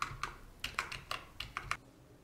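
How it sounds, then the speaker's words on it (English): A computer keyboard clatters nearby as cursor and delete keys are tapped, roughly ten crisp keystrokes in an uneven rhythm, some in quick pairs, quiet and with no talking, then stopping just before the end. "Use the cursor keys to move over to the apostrophe and delete it."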